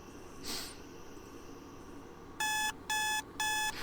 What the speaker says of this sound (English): After what feels like a few minutes of sleep, Dia's alarm goes off.